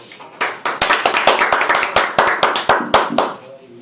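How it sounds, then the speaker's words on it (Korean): A small group claps in a quick, steady rhythm at the start of a practice lecture on strategy for social enterprises, a run of crisp, close claps that builds, holds and then stops. "박수 치면서 시작하겠습니다"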